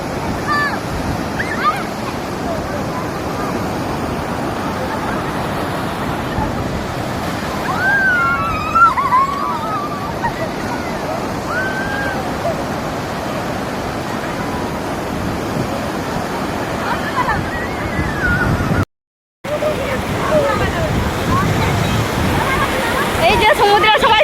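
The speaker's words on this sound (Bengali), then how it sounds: "বঙ্গোপসাগরের উত্তাল ঢেউ।" Rough surf of the Bay of Bengal at Puri beach, a loud continuous roar of breaking waves with heavy wind buffeting the microphone and scattered distant voices of bathers, with one brief dropout near the end.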